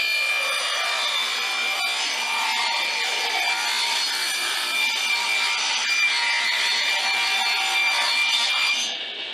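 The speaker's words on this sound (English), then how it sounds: "I'm just going to make some decorative saw curves in the front of each piece" A saw cuts decorative curves into a wooden picture frame piece, a loud continuous rasping buzz held for several seconds before stopping abruptly at the end, close up with no voices.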